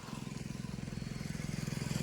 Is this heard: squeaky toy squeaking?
no